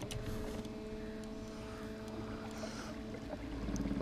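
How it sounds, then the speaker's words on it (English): Outboard motor on a boat trolling at its slowest speed while lure fishing for pike in January in the UK, a steady low hum with faint tonal whine running continuously and close, no talking. "I'm going to troll super slow today as well. Slowest speed that this motor will go at."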